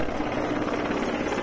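Army helicopter flying over a hospital while showering flowers, a loud continuous rotor whir with steady pulsing chop, close and alone with no talking.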